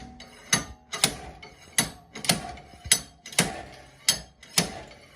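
A slide hammer bolted to the hub of an MR2 Spyder is smacked repeatedly, seven sharp metallic clanks at a roughly even pace, each with a short ringing tail, close and loud.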